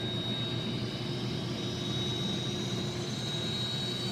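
Engine start on an AW-109 helicopter in the Prepar3D flight simulator: a steady turbine whine with a thin high tone gradually rising in pitch over a constant low rumble, no voices.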